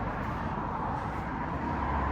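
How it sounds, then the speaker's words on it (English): Continuous road traffic rumbles steadily in the background near Samis Road and Centre Street Bridge, a broad hiss of passing vehicles with no voices. "Excuse the traffic noise in the background."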